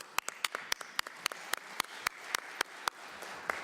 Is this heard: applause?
yes